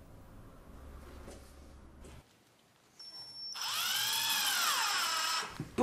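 A power drill drives a screw to fix a wooden wedge in place on a router copying guide, a close, loud whirring burst lasting about two seconds after some quiet handling noise.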